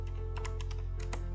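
A computer keyboard being typed on to enter a BGP router command, a few quick, light key clicks in two short bursts over a steady low hum.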